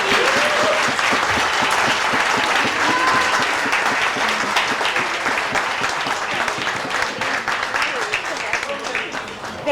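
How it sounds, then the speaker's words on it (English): A large crowd at a bar association judges' night breaks into loud, sustained applause with dense clapping throughout, gradually easing slightly toward the end, with some voices mixed in. "With a big round of applause"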